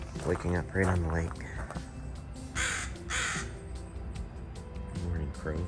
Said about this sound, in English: Morning crow.